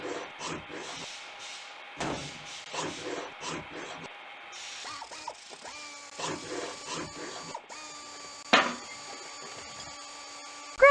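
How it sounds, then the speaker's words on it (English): An old muffler being removed in the 1998 PC game Tonka Garage, with ratcheting mechanical clicks and clunks in short repeated bursts, ending in a few brighter metallic tones. "let's get that old muffler out of there."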